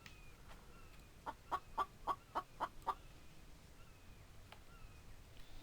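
Chicken in The Infected survival game letting out a quick series of about seven short clucks in a row, fairly faint against quiet outdoor ambience.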